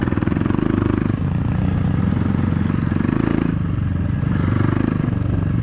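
A KAYO TSD 110 enduro motorcycle during off-road training, its small single-cylinder engine running loud and close with a fast throbbing pulse that rises and falls in revs throughout, with some mechanical clatter.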